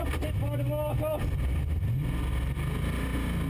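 Onboard a TVR race car at Castle Combe as it is lapped and runs off into long grass, the engine growls with shifting revs and rough, bumpy rumbling, while a commentator talks over it.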